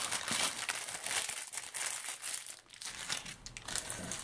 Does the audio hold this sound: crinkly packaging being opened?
yes